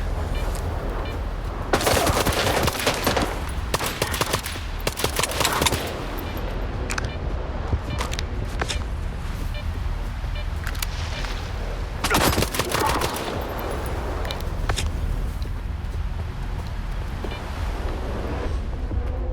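Gunfire rings out in the video game S.T.A.L.K.E.R. 2 as a pistol is used on enemies, with loud clustered bursts of shots separated by quieter stretches of ambient noise.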